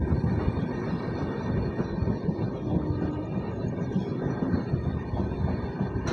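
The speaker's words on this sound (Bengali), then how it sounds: "বন্ধুরা এই হচ্ছে কুমারদুবি রেল স্টেশন।" Dark evening platform ambience at Kumardubi railway station in Jharkhand: a steady, dense rumble and wash of noise, loud and continuous throughout, with no distinct voices standing out.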